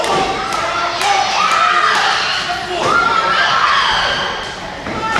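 A crowd at a CWF Mid-Atlantic pro wrestling show cheering and shouting behind a wrestler, steady loud crowd noise with thuds from the ring and a commentator's voice over it.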